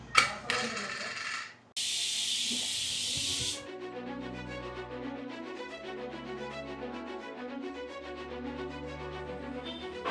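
A pressure cooker making tomato bath lets off a loud, harsh hissing whistle of steam for about two seconds after a brief clatter, then gives way to quieter kitchen sounds and a low background hum.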